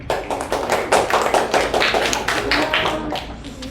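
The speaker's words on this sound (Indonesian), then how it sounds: "tepuk tangan." A classroom of elementary school teachers at a training session claps together, quick and close, in a steady burst that lasts a few seconds.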